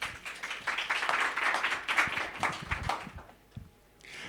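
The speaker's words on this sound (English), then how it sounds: "Please give Philip a huge Ignite round of applause." Audience applause for a speaker at an Ignite talks event, a sustained wash of many hands clapping at moderate distance that swells, then fades out near the end.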